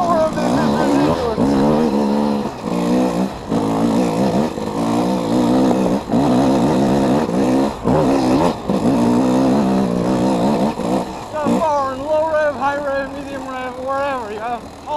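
A GasGas EC 300 two-stroke dirt bike loops around a track, its engine rising and falling through throttle bursts and gear changes, loud and close, with a rider talking over it.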